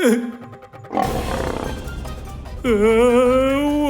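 A tiger roars loudly in a Tamil historical TV drama scene, with several long, rough, sustained roars following one another up close.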